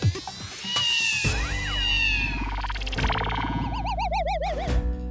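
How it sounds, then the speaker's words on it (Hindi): A cat indoors lets out a loud, drawn-out meow followed by warbling, yowling cries, set against background music with sound effects. "बिल्ली आ गई अंदर।"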